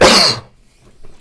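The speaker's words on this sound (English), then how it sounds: "And I will cough now." A single loud, close cough bursts out at once and breaks off within half a second, followed by near silence with faint room noise.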